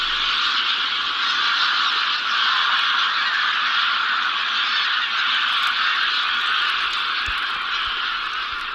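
A dense, continuous chorus of geese honking in Coto Doñana, Spain, where flocks gather by the tens of thousands before migrating, fills the air steadily and loudly throughout.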